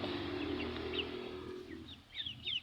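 Chicks on a farm give faint, high chirping peeps in short bursts, mostly toward the end, over a low steady background drone.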